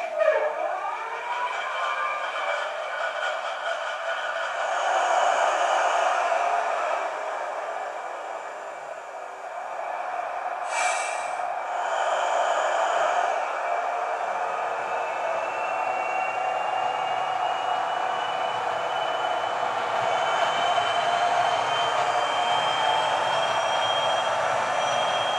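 A model Class 43 HST with DCC sound control, powered locomotive and dummy car both sounding, rolls into staging with a steady diesel engine drone and a high whine. The hum rises gradually over about 25 seconds.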